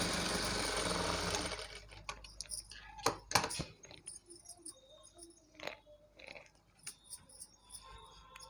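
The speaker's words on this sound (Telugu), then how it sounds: "ఇలా పైనుండి ఒక టాప్ స్టిచ్ వేయాలండి" An electric sewing machine running briefly at the start as it top-stitches a maggam work blouse, then stops, leaving faint clicks and light handling taps on the fabric and machine.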